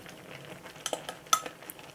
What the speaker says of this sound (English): I am going to add to this now my beans.